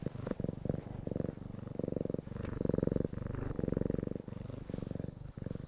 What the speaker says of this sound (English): He's a good cat.